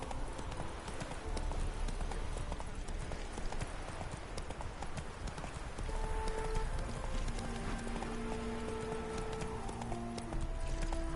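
In The Witcher 3, the horse Roach gallops in a rapid, continuous clip-clop of hooves up close, with game music tones rising midway through.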